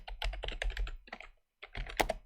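Fingers tap out rapid keystrokes on a computer keyboard in two quick bursts split by a short pause, close and crisp with no voice over them.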